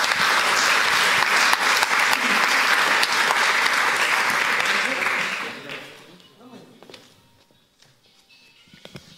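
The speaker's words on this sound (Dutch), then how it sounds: "Geef ze een applaus." Audience at a panel discussion on politics and philosophy gives a strong round of applause that holds for about five seconds and then dies away, leaving scattered rustles, footsteps and faint murmuring.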